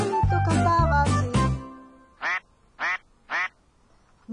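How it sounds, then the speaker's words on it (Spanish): A duck quacks three times in even, spaced bursts, clear and close, right after a short stretch of cheerful music in a children's song. "No, Bartolito, eso es un pato."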